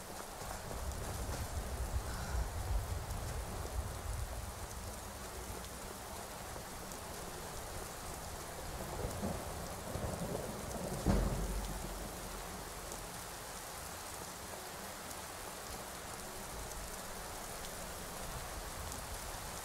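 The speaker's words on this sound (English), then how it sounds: "An icy rain. Oh, this isn't good." Icy rain falls steadily in the video game Skyrim as an even, close hiss of rain on surfaces, with a single soft low thump partway through and no voices.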